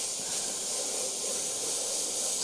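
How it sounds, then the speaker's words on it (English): An airbrush sprays white paint over a clown makeup template with a steady, even hiss of compressed air. It sounds close and runs without a break, and no one talks over it. "I'm going to spray white over them now"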